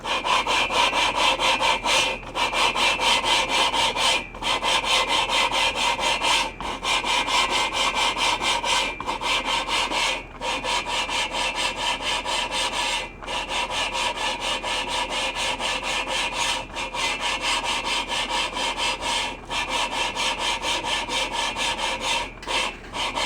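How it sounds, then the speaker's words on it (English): Parts of a 1967 VW engine being sanded up close by hand, a steady rasping scrape in long back-and-forth strokes broken by short regular pauses. "Sanding."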